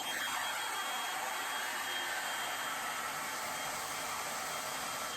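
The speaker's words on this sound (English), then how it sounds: "I'm going to get my hairdryer on the hot setting because we really want to heat set" A handheld hairdryer on its hot setting blasts steadily to heat-set a vintage roll-and-pin hair curl, a constant close rushing whoosh with a faint motor whine and no talking.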